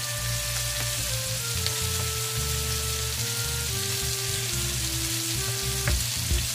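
Steak frying in a pan with honey and ground black pepper, a dense, even sizzle and crackle held throughout with a low background hum and no talk.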